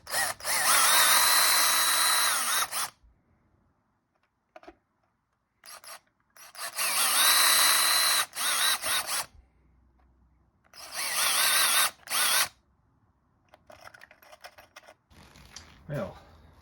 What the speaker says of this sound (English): I'm going to re-drill these holes so that they're nice and neat for the new badge to sit in